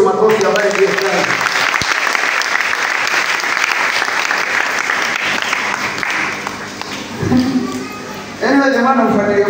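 Church congregation applause during a bishop's sermon, loud continuous clapping from many hands filling the room, with a preacher's amplified voice cutting in near the end.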